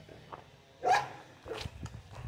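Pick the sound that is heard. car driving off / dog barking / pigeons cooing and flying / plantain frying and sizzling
dog barking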